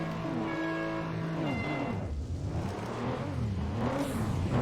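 Racing car engines rev and whine in the video game Juiced, several high-pitched tones sliding up and down through gear changes as cars use nitrous, loud and continuous with no voices over them.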